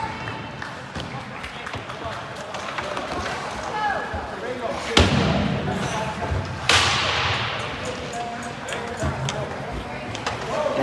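Hard thuds and slaps of 16U hockey players and gear slamming into rink boards, two sharp loud impacts standing out amid continuous arena noise and crowd chatter.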